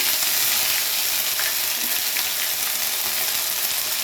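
Whole cumin, a pinch of asafoetida and ginger paste fry in hot oil, giving a dense, loud, even hiss that holds steady throughout with no talking.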